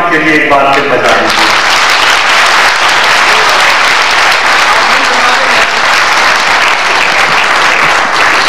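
Loud, sustained applause from an audience at a formal program honoring guests, dense and continuous throughout, with a brief voice at the very start.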